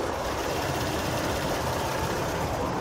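A Hyundai Grandeur HG with the 3.3 GDI engine idles with the bonnet open, recorded up close: a steady, even engine hum that holds level throughout, with no talking.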